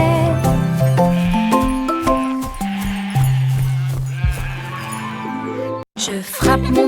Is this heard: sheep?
yes